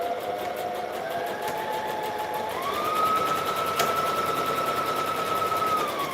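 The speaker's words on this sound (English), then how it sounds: "So I'm just going to top stitch around this." Sewing machine top stitching around a fabric garment, a steady continuous whirring motor hum with a pitch that rises partway through and holds, running close and alone for several seconds.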